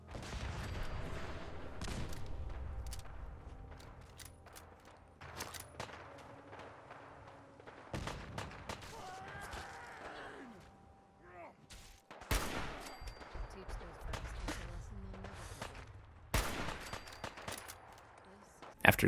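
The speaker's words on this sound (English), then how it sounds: "By drawing the super mutants towards them and using a few well-placed grenades, Maximus and Lucy were able to defeat the super mutants" Gunfire and grenade blasts from a firefight against super mutants in the video game Fallout 4, with bursts of shots and sharp explosions recurring throughout, mixed with game sounds and voices.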